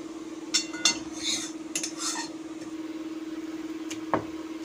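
Fried fish lifted from a wok onto a plate, giving a few sharp metallic clinks and scrapes early on over a steady low kitchen hum, then a lone clink near the end.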